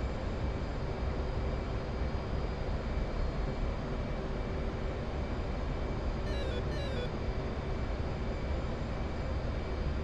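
A steady, droning aircraft engine from a flight simulator game holds a constant hum and a broad rumble that never breaks. It sounds even and moderately loud, with a faint high whine briefly rising over it near the end.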